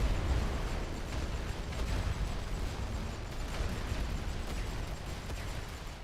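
A World War I artillery barrage in a strategy game rumbles as continuous dense booms and bursts, heavy low-end thunder blending into a sustained roar with no clear gaps and no voices.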